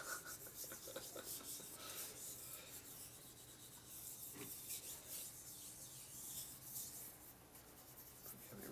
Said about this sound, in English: Is that sandpaper going?